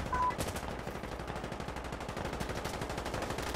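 Loud gunfire from an M24 rifle in the video game Insurgency: dense, rapid shots run without a break through the whole stretch.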